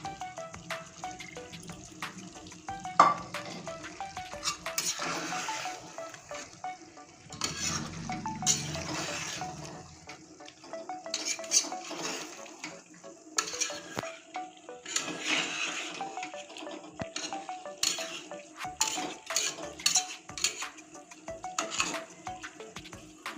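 Potatoes stirred into chicken curry in a cooking pot, with intermittent clinks and scrapes of a spoon against the pot and soft sizzling, quiet and irregular, no voices.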